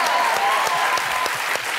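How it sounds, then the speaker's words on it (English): Brief burst of studio audience clapping during a late-night talk show interview, dense and even for a couple of seconds before tapering slightly at the end. "Yeah, you can clap for that."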